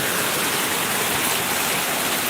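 Rain pouring down in Oyur, Kollam, a dense, continuous hiss of heavy rainfall without a break, with no voices.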